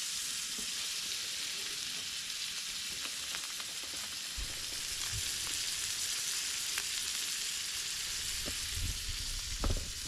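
A big steak sizzling in a pan during an evening cook inside a lavvu tent, a soft, continuous frying hiss with scattered pops and taps of utensils, no voices.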